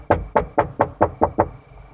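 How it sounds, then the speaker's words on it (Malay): Knocking on a house at night: seven firm, evenly spaced knocks on a solid door or wall, loud and close, slowing slightly and fading at the end. "Rumahnya seolah-olah diketuk."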